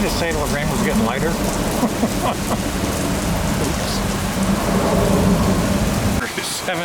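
Heavy pouring rain drums steadily during a storm at Tampa airport, with thunder rumbling underneath, the downpour loud and continuous before dropping away abruptly near the end.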